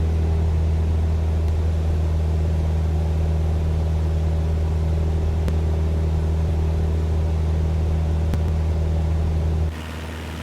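A light aircraft's engine drones steadily and loudly in the cockpit while climbing after takeoff from London City airport at about 70 knots, with a constant low hum and no talk, easing off abruptly at the very end.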